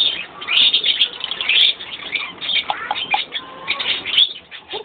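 Many small birds at a bird farm chirp and tweet in a dense, busy chorus, with high rapid calls overlapping continuously and close by.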